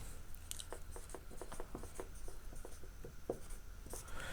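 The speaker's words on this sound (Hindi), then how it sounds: "तो यहाँ पे सतपुरा पर्वत लिख लिया जाए।" A pen or marker scratches out a mountain range's name on a board or paper during a geography lesson, with a close, steady series of short strokes over a faint hum.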